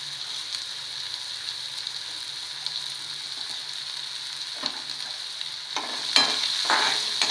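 Chopped onion added to hot oil with cumin seeds and a pinch of asafoetida in a pan, sizzling steadily and close by, with stirring scrapes and a louder burst of frying near the end.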